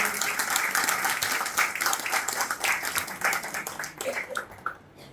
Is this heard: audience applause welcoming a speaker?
yes